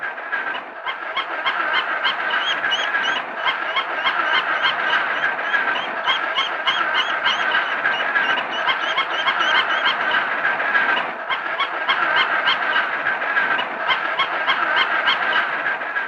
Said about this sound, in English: it stops making distress calls and begins a calm peeping